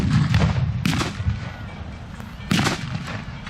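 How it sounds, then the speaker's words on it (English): Mortar shells land during a WWII battle reenactment at Sedgefield, staged against Soviet troops: two or three sharp, booming blasts spaced a second or two apart, close and loud, each trailing off into rumbling ambience. "these mortar shells are landing amongst the Soviet troops"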